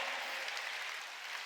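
A church congregation applauding during a Sunday service, a dense, steady wash of many hands clapping together, moderately loud and without a break.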